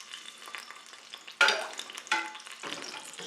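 Garlic and anchovy hit hot oil in a pan, sizzling and frying up close, with bursts of louder crackle as the pieces are stirred and pushed around, no voices.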